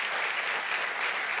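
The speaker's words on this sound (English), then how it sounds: "it deserves a round of applause" Audience applause at a C40 cities climate presentation, a steady dense wash of clapping with no voices, sustained evenly through the brief moment.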